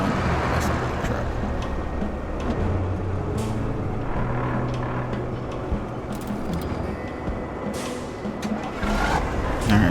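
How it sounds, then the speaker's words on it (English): A truck grinding along in RoadCraft with its clutch slipping, a continuous mid-level engine and drivetrain rumble with shifting tone and occasional clunks, no voices. "I like that you can hear that there's actually a clutch being operated in slip."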